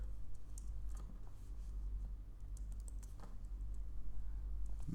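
Typing on a computer keyboard while a Flutter app package name is entered, with soft scattered key clicks over a steady low hum and no talking.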